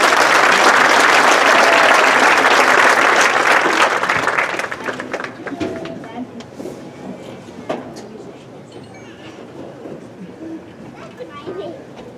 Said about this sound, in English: How about a round of applause for Jody?